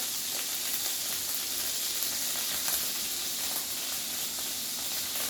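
Chopped beef for a chopped cheese sandwich sizzles steadily in a hot pan, a loud, even frying hiss with no pauses and no talking.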